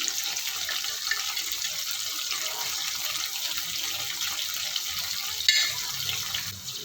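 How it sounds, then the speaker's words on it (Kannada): Soaked tamarind juice poured into a pan while making puliyogare, a continuous close trickling and splashing stream of liquid, steady with a brief louder splash near the end. "ಹುಣಸೆಹಣ್ಣು ಚೆನ್ನಾಗಿ ನೆನೆಸಿಟ್ಕೊಂಡು ಅದನ್ನು ರಸ ಹಾಕ್ಕೊತಾ ಇದ್ದೀನಿ"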